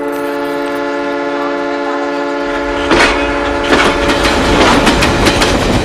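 A train sounds a sustained loud horn, then starts moving with rhythmic clanking and rumbling wheels that build in irregular bursts, close by.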